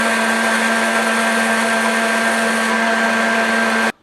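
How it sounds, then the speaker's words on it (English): A kitchen blender runs at a constant high speed, whirring loudly and steadily as it purées a blueberry and apple chilli sauce, then cuts off abruptly at the end. "now we want to get our blender and just blend it"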